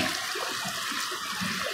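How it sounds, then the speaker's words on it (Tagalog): Water splashes steadily from a fountain at the Manila Bay reclamation area near Mall of Asia, a continuous close rushing wash with no voices. "Yan, may mga ito fountain, no?"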